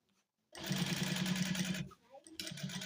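A sewing machine runs in a steady fast burst for over a second while stitching a fabric cover for a frying pan made from a harrow disc, then stops briefly before a second short run starts.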